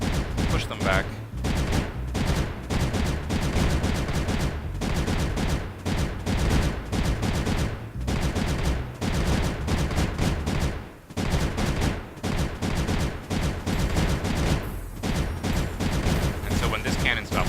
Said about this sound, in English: So you see, as we build cannons, we'll slowly be able to push them back.